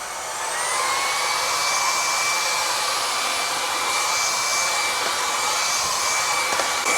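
An INTETURE cordless stick vacuum cleaner runs at a higher power setting, giving a loud, steady high-pitched whine with an airy rush that holds for the whole stretch after a brief lower start.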